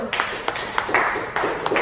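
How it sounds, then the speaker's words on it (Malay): Classroom applause for a student, several people clapping in short bursts across the brief moment, moderately loud and close, with some background voices mixed in. "beri tepukan kepada Rabatul"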